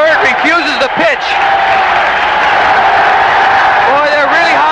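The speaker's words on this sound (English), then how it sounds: "And the crowd is going wild." A baseball stadium crowd roars, cheers and hollers after a home run in a White Sox game, a dense sustained wall of noise with whoops rising above it and an announcer talking over the top.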